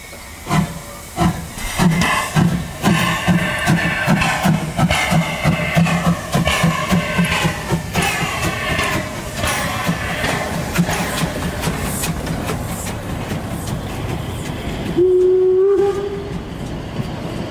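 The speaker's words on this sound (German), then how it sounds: "wo gerade der Zug nach Radeburg abfährt" Lößnitzgrundbahn narrow-gauge steam train pulling out of the station toward Radeburg, loud and close, with rhythmic chuffing and hiss that ease over time, then a short whistle blast near the end.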